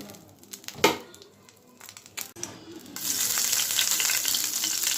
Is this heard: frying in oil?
yes